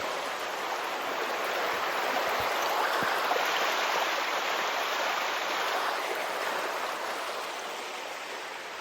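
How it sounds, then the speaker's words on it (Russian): A small mountain stream spilling over rocks like a little waterfall rushes steadily with a dense, even hiss, close and continuous with no voices. "Очень красивый ручей бьет, таким водопадиком."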